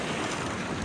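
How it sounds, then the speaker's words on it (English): Big waves on Lake Superior during a winter snowstorm produce a loud, continuous roar of surf and churning water, blended with buffeting wind noise across the microphone. "Out here are some big waves, a snowstorm"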